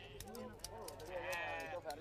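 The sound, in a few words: sheep bleating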